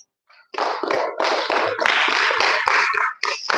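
A crowd at a mothers' summit morning session claps for someone speaker, the applause swelling quickly into a dense, loud burst of many hands that holds steady and then briefly drops before picking up again.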